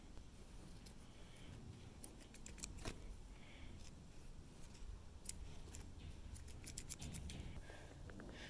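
Small scissors snip excess thread on a horse flysheet being repaired, quiet close clicks in scattered clusters of quick cuts against a faint room background.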